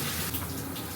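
Water runs steadily from a tap as a child is washed, a constant hissing rush that stays even throughout the short moment with no voices.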